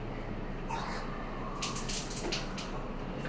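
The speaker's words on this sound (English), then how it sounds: "And there's a hot water running there." Water runs steadily from a tap in a soft, continuous hiss, with a few brighter splashy bursts partway through.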